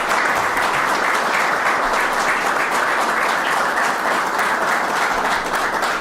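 Steady, loud applause from a crowd at a government public safety announcement in Buffalo, a dense unbroken wash of clapping that lasts the whole stretch.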